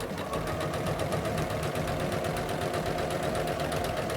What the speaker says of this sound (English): And then I'm going to sew forwards.